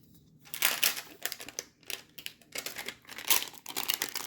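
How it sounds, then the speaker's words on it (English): Scissors cut apart pieces of vinyl in quick snipping and crinkling bursts, irregular and close, separated by short pauses. "So I'm just gonna grab my scissors and cut these out from each other."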